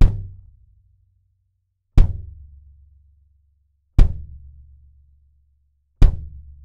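22x18 bass drum miked with a DPA 4055 inside, struck four times at an even two-second pace, each hit a close, deep thump decaying to silence before the next.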